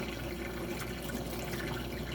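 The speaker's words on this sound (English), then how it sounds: "I got my dishwasher running in the back." A household dishwasher runs in the background of a kitchen during cooking, giving a steady, continuous wash of water spray and hum that holds at an even level throughout.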